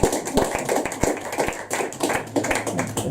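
Audience members at a poetry open mic in a pub clap by hand, a modest, uneven patter of claps close by that carries on for a few seconds.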